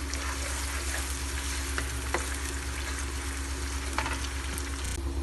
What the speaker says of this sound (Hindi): प्याज को हम लाइट ब्राउन होने तक फ्राई करेंगे